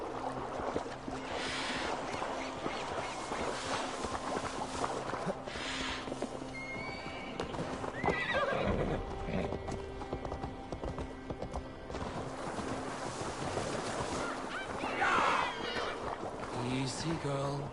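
Horse in Assassin's Creed Valhalla neighing and whinnying amid clip-clopping hooves, with water and ambient game sounds around, and a voice speaking over parts of it.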